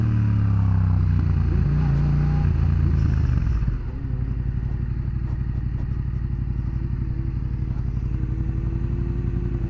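A brand-new Yamaha FZ-07 motorcycle roars loudly under throttle while being ridden, then drops into a steady, pulsing low engine thrum as it rolls on.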